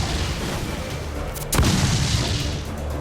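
A ship's cannon booms in Assassin's Creed 4 Black Flag, a single heavy blast midway through a naval battle, with rumbling sea-fight ambience before and after.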